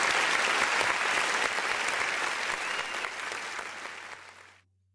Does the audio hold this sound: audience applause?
yes